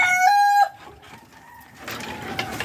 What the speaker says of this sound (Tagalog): Maraming manok doon.